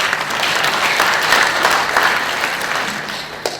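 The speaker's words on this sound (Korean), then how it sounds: "우리 당직자들과 선거 도우미들을 위해서 뜨거운 박수를 부탁드리겠습니다" Loud, dense applause from a party convention audience fills the hall steadily, with no talk over it, near and continuous throughout.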